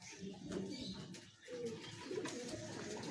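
A male kalshira pigeon in a home loft coos softly and repeatedly. The low, throaty calls are quiet and close, with no one speaking.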